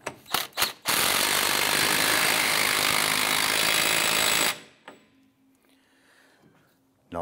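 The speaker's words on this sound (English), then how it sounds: "Install the axle nut, and we'll tighten it down." An impact tool rattles loudly and continuously while tightening a wheel axle nut on a 2005-2007 Ford Five Hundred rear hub, after a few short bursts, then stops abruptly into quiet workshop hum.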